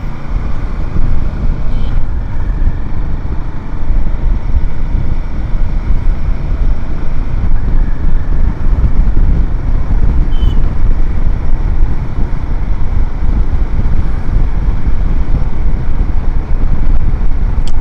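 Royal Enfield Himalayan 450 motorcycle riding at speed, a loud, steady roar of engine drone and rushing wind buffeting the microphone with no talk.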